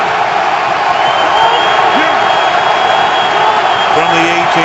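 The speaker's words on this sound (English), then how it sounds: "the crowd now very much back into it" Football stadium crowd at an NFL game between the 49ers and Patriots, a broad steady roar of cheering and yelling that fills the whole stretch, with a commentator's voice faintly under it.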